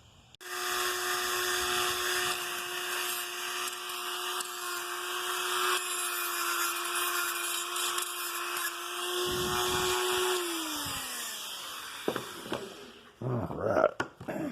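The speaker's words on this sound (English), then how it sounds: "I'll take the Dremel with that and do it" A Dremel rotary tool whines steadily as it rounds off the corners of a homemade torch caddy. The high, sustained drone lasts about ten seconds before it spins down, and a few clunks of handling follow.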